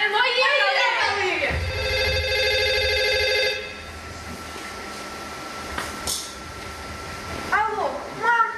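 Telephone ringing at a village amateur drama festival, a loud sustained electronic ring for a few seconds that then stops, followed by quieter background noise with voices around it.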